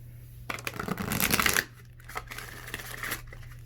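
An oracle card deck is shuffled up close, a loud riffling burst of flicking cards followed by softer taps and slides as the deck settles.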